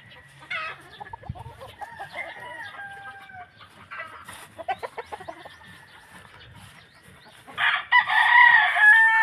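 A rooster crows among Cowan Flarii pullets in a single mating pen, with soft clucking and scattered bird calls before a loud, close crow near the end.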